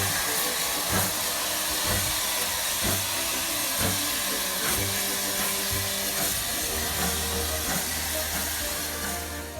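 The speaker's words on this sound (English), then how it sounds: "have a listen to a steam locomotive departing, and you can easily picture what they're saying in your mind by listening to their heavy chuffing noises" A steam locomotive pulling away with heavy, rhythmic chuffing over a loud, continuous hiss of steam, close and dense.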